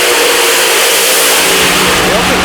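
Drag racing cars at a night drag racing event accelerating hard down the strip, a loud, continuous roaring engine wall that fills the whole moment, with some smoke coming off the cars.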